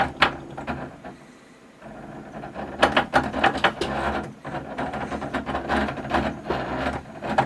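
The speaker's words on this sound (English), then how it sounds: "this wheel is loud, especially when you spin out. Listen to this." A Logitech G29 racing wheel spinning out under force feedback gives bursts of loud, rattling mechanical clacks and whirring. The bursts come in irregular clusters after a brief quieter stretch, heard close up.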